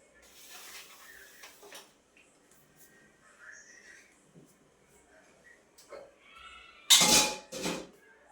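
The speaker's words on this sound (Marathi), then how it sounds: "त्यामुळे आता त्याच्यावरती झाकण ठेवते." Kitchen clatter as a lid goes over chapatis, with soft scattered knocks and then a sharp loud clang of pots near the end, faint talk in between.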